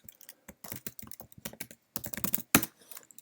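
Quick, uneven clicks of keys being typed on a computer keyboard, close by, in short bursts with brief pauses.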